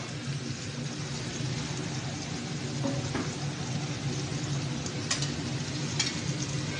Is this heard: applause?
no